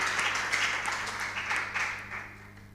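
Applause for a contestant at a junior high school quiz competition, a brief burst of many hands clapping that runs a couple of seconds and then fades, moderately loud over a low steady hum.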